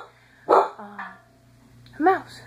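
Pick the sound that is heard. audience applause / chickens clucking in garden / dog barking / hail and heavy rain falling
dog barking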